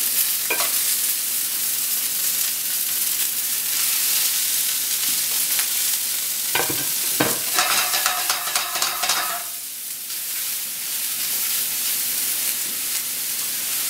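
Cremini mushrooms stirred in a hot pan, with a steady broadband sizzle of frying throughout and a few sharper scraping stirs in the middle, close and fairly loud with no voices.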